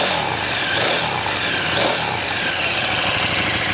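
A 2014 KTM 1290 Super Duke R with a stock muffler idles close up, a steady, even engine rumble holding for several seconds with no revving.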